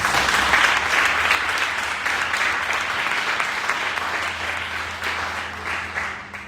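A church congregation applauds a newly married couple, dense sustained clapping that fills the room evenly and fades a little toward the end, with a faint low hum underneath.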